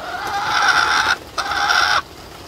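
Chickens sheltering from a spring rain storm in Texas give two loud, drawn-out, close squawking calls with a short gap between them, over faint background noise and no talk.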